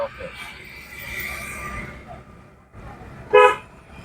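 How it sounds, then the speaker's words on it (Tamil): A single short car horn toot sounds out clearly, close by, over a steady low engine rumble with a faint voice at the start. "போதும் ஹாரன் போதும்"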